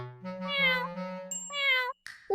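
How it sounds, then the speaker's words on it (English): A cat meows twice in drawn-out, tonal cries, close and clear, followed by a brief bright ding. "Yes, the cat says meow."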